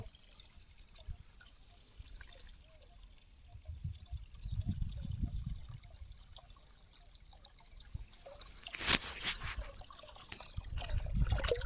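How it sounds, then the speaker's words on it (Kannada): Water runs and trickles steadily into a container on a farm where tomatoes are grown, a continuous close wash of flowing water that swells near the end. "ನೀರು ಹಿಡ್ದಿತ್ತಾಯಿತು."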